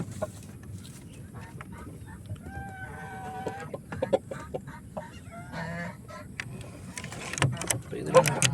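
Roosters and chickens cluck and call on a country chicken farm in Cyberjaya, Malaysia, with scattered bird calls over a steady low rumble of background noise and occasional handling sounds.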